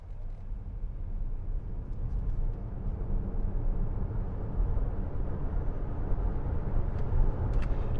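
Deepal S07 electric SUV accelerating from 0 to 100 km/h on an open road, a steady low rumble of road and tyre noise rising evenly throughout, with no voices.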